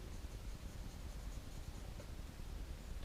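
Pencil drawing on paper while sketching expressive eyes, a faint continuous soft scratching and rustle close to the page, quiet and without talk.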